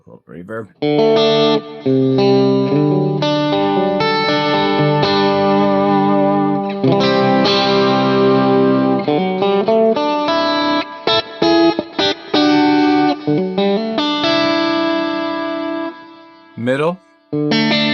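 A Donner DST-550 electric guitar plays chords and single notes with a little reverb, loud and close, with sustained ringing tones, short pauses and a brief gap near the end.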